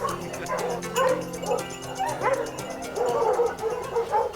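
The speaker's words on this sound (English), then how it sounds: "I'm very impressed by all the dogs they have here." Small hunting dogs at a wild boar hunting club barking, yipping and whimpering in overlapping bursts, several dogs close by and fairly loud, with no clear talk over them.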